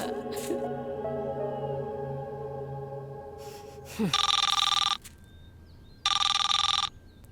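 A telephone rings in a home with two loud, bright electronic ring bursts about a second apart, following a softer tonal musical passage, with no talk over the rings.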